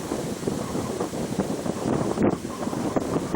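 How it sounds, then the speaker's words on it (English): Wind blowing hard on a cold night, a steady broadband rush with gusty buffeting against the microphone, continuous and fairly loud with no voices. "because tonight is cold, it's windy"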